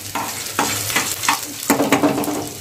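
Curry leaves and garlic hit hot oil in a pan and fry while being stirred, with bursts of sizzling and several distinct scraping strokes, close and fairly loud.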